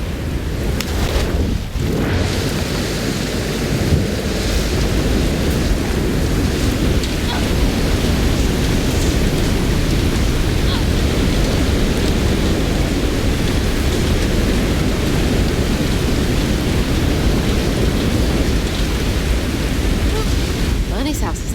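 Heavy rain and thunder fill a storm scene in the video game South of Midnight, a dense, loud and unbroken roar that continues throughout.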